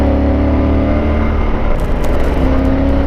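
Steady loud engine and road noise from riding a Yamaha Super Tenere motorcycle on a busy road near Charlottesville, with passing traffic blending into a continuous close rumble and wind.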